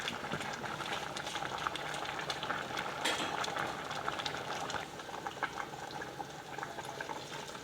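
Steady bubbling of white bean sauce boiling hard in a pot, a continuous close rolling burble with no voices.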